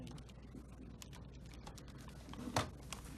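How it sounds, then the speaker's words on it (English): Calculator keys clicking during a math class, a quick, uneven run of light plastic taps, faint and close, with one louder clack near the end. "Somebody that's got their calculator clicking"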